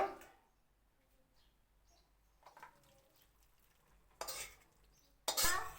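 Cooked pui shak chorchori, a Bengali Malabar spinach dish, scraped and scooped from the cooking pan into a bowl. Quiet stretches alternate with short scraping bursts, the last one loud and close, with no talking.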